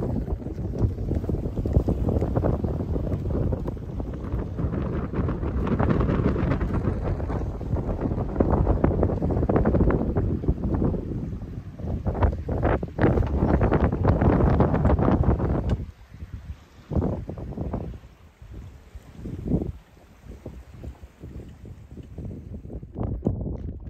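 Strong force 6 wind of about 23 knots roars steadily across the microphone aboard a catamaran in a bay off Rhodes, loud and gusty, then easing into choppier buffeting bursts with no talk.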